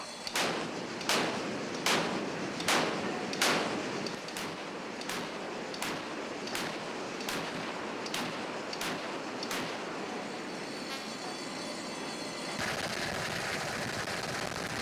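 Naval 4-inch cannons fire from a warship during gunnery practice, about ten sharp, evenly spaced booms over a constant roaring background of engine and wind noise.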